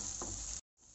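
Onions and tomatoes sauté for mutton chukka, giving a short burst of close, dense sizzling and stirring that cuts off abruptly, pauses, then resumes more faintly.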